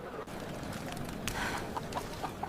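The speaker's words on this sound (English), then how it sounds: "apparently I scared the chickens" A few chickens cluck in short, agitated bursts nearby over a steady background rumble.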